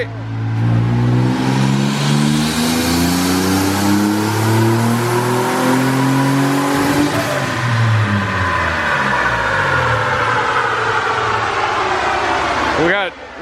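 The turbocharged engine of a 300,000-mile Toyota 4Runner roars loudly through a sustained power pull, its pitch climbing steadily before a brief drop and a quick cut at the end, with people talking over it.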